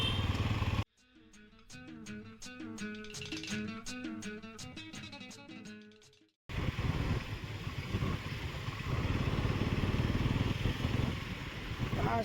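A Bajaj Pulsar NS 200 motorcycle engine drones steadily and loudly close to the microphone with wind noise, broken up by a stretch of music in the middle.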